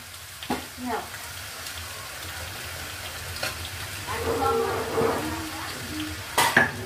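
Fish head and banana flower curry being stirred in a pan: crackling sizzle with scattered spatula scrapes and clatters against the pan, while voices talk over it toward the middle and end.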